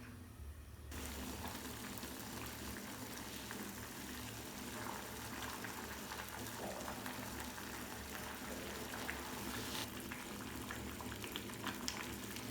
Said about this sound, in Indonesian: Tunggu sampai airnya mendidih.